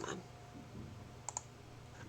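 Two quick, crisp computer mouse clicks in close succession, faint and close against a quiet room hum.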